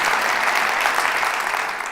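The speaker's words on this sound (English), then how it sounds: "Give me a round of applause for that." An audience applauding at Flint's 2024 State of the City address, a thick continuous burst of clapping from a large crowd that holds steady and eases slightly toward the end.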